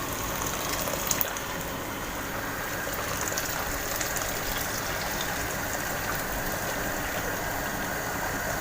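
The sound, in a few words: hot water being poured into a pot for koshari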